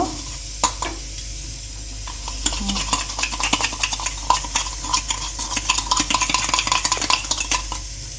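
A spoon stirs sugar into coffee in a cup, clinking and scraping against the sides in quick, repeated strokes, close and clear with no talking.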